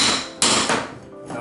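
Two sharp hammer blows ring out close and loud during baseboard removal in a 1983 Florida home bathroom demolition, each impact followed by a brief decaying clatter.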